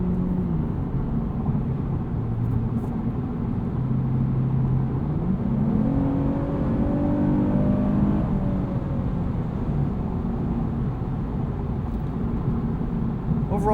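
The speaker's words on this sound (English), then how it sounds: "Could definitely hear an enhanced engine note compared to the last IS I drove." Steady engine drone from a 2021 Lexus IS 350 AWD F Sport sedan while driving, with a rising, revving note swelling midway over constant road and cabin hum.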